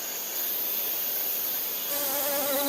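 Honeybees buzz around flowers as they gather honey and pollen. There is a close, continuous insect hum with a shifting whine that gets louder and wavers in pitch near the end, with no voices.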